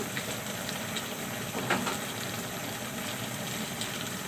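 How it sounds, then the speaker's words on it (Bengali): A covered pot of jackfruit at a rolling boil, producing a steady, dense hiss and bubbling roar that holds at an even level throughout, close by and moderately loud. "বলক উঠে গেছে, কত সুন্দর।"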